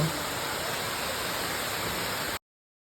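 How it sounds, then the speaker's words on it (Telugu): Sileru's Ice Gadda waterfall roars nearby, a constant broadband rushing wash of falling water that stays level and then cuts off abruptly near the end. "ఆ జలపాతం సౌండ్ వినండి ఒకసారి ఎలా వస్తుందో"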